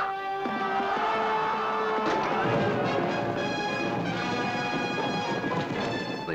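Horses gallop in a frenzied buzkashi contest near Kabul, giving dense, rapid hoofbeats that stay loud and continuous throughout, blended with a swelling musical score.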